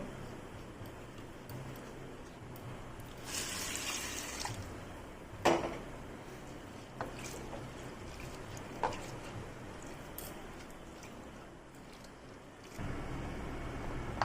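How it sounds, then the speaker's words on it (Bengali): A cup of large sago pearls is rinsed by hand in a bowl of water and rubbed between changes of water. Soft, steady swishing and sloshing fills the clip, broken by a few light clicks and a louder splash near the end. "এই সাবুগুলোকে প্রথম আমি জল পাল্টিয়ে পাল্টিয়ে তিন থেকে চারবার কষলিয়ে কষলিয়ে ধুয়ে নেব"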